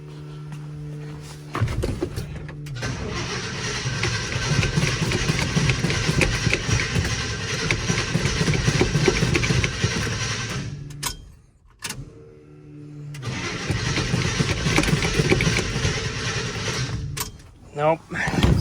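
A 1975 International 200 pickup's engine cranks over and over in a long, steady grinding run without catching, pausing briefly before a second extended cranking attempt, close and loud.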